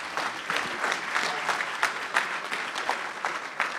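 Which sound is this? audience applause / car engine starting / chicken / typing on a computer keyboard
audience applause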